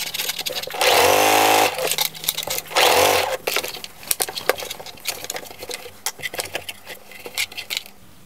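A sewing machine stitching around the edge of an oversized raglan top runs in two loud, close bursts of rapid whirring, with quieter handling clicks and rustles between and after them.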